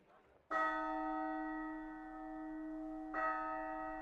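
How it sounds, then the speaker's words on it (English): Great castle bell in the Lost Odyssey role-playing game tolling as an emergency assembly signal, two resonant strikes with long ringing decay, fairly faint and alone. "From the direction of the castle comes the sound of the great bell, an emergency assembly signal to the soldiers patrolling the streets"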